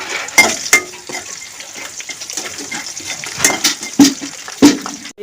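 A few peanuts fry in a pan while a spoon stirs and scrapes them, giving a soft ongoing sizzle broken by sharp metallic clinks and scrapes at uneven moments.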